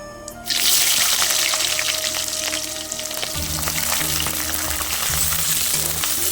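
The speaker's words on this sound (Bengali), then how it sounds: "এই যে পেঁয়াজ দিয়ে দেবো তেলের ভিতরে" Onion dropped into hot oil already holding whole cumin seeds, sizzling loudly at once and settling into a steady, close crackle of frying that carries on without pause.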